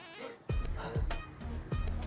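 A male goat bleats three times in short wavering calls, close by, over a faint buzzing background.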